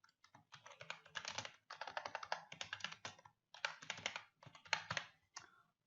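Typing on a computer keyboard, rapid bursts of close, crisp key clicks in several clusters separated by brief pauses, with no talking.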